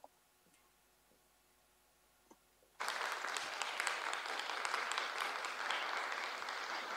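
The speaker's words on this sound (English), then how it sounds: "I hope you can hear that big round of applause for you both there." A big round of applause in an online plenary session at an academic conference starts abruptly after a few seconds of near silence, then continues as steady, dense clapping from many hands.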